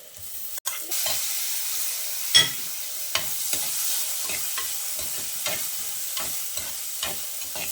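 Tomato sizzles in a pan over sautéed onions for a Kerala fish curry, a soft steady frying hiss broken by repeated sharp scrapes and taps of a stirring spoon.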